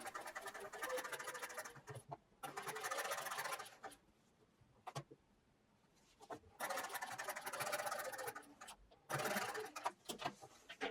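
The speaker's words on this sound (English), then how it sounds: "I'm using a zipper foot for this, as there is a little bit of bulk on the right." A sewing machine fitted with a zipper foot stitches a jeans fly in quiet, rapid whirring bursts of a few seconds each, separated by pauses and small handling clicks.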